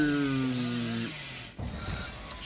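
Billy's chainsaw in Dead by Daylight drones then winds down after about a second, followed by a rough thud and scraping game noise.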